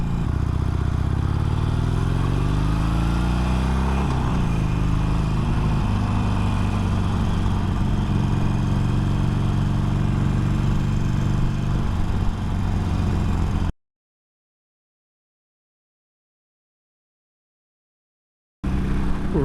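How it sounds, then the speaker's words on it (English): A Harley-Davidson motorcycle on a ride to work gives a loud, close, continuous engine roar with rising and falling pitch, then the sound cuts out abruptly into silence before briefly returning. "And to celebrate, I rode the motorcycle."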